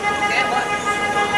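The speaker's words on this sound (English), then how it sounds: "Who's honking their horn?" A car horn honks near the Eiffel Tower in Paris as a steady, sustained tone that holds through the whole moment, with people talking over it and street traffic in the background.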